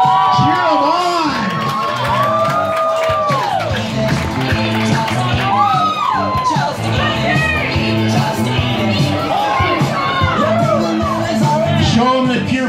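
A crowd cheers, whoops and shouts continuously at an outdoor hot dog eating contest in Saskatoon, Saskatchewan, a loud, dense roar of many voices including children, with an announcer speaking over it.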